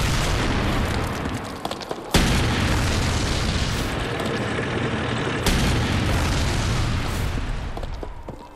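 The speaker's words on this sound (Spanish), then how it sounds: "Bogues y su tripulación le disparan 3 veces." A tank fires three times at a German bunker in a wartime battle scene, with loud booming blasts over a dense, rumbling din of battle and no clear speech.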